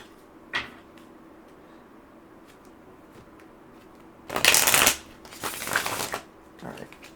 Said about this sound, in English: So let's pull some more oracle cards.